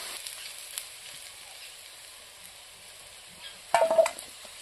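Potato and taro pieces fry in a pan with a faint, steady sizzle, broken near the end by a brief, louder burst of stirring or utensil contact.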